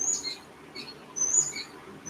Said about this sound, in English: We have some birds